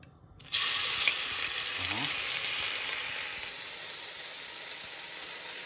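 Kimchi drops into hot oil for kimchi fried rice and erupts into a loud, sudden sizzle that keeps hissing steadily, close up, with a brief clink of a utensil.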